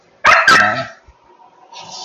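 A Belgian Malinois puppy gives two sharp, close yapping barks in quick succession, followed by a brief softer whine or whimper and quiet rustling.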